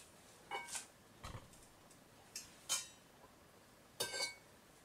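Cooked al dente spaghetti served onto a plate: a few soft, brief clinks and scrapes of utensils against the dish, spaced out and fairly faint in a quiet kitchen.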